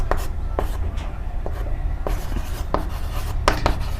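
Pen or chalk scratches out an equation by hand in a classroom maths lesson, short scraping strokes coming in irregular bursts over a low steady background hum, with no voice over them.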